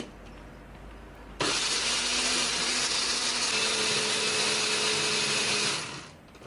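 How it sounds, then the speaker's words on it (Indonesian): An electric kitchen blender whirs into a loud, steady grind as it purees coriander spice paste with a little water, running for about five seconds before spinning down. "Di sini aku akan menghaluskannya menggunakan blender"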